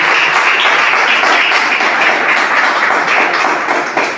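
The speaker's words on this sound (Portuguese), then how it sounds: "Palmas para Jesus." A church congregation claps loudly for Jesus during a service, a dense, continuous wash of many hands clapping together at close range with no pause.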